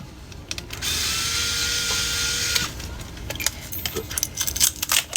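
Small screws being worked out of a smartphone with a screwdriver tool, a whirring buzz followed by light metallic clicks and taps, close and fairly quiet.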